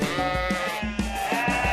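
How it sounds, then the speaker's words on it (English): A sheep bleats in a barnyard, a loud, close, wavering cry repeated in several quick pulses with no talking over it. "The sheep."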